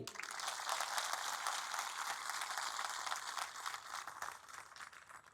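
A crowd at a village spiritual discourse claps hard and continuously, a thick, even roar of many hands that holds for several seconds before softening a little near the close, with no talk over it.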